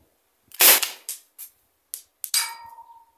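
A Byrna SD launcher fitted with a custom valve pin fires: a sharp, loud close pop followed by a few metallic clicks and clinks, then a second brief burst with a ringing tail.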